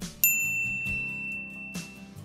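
A bright bell ding rings out sharply, followed by a softer second chime, layered over a steady musical background.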